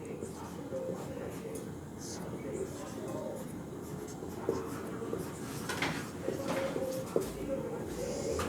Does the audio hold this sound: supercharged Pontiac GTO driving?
no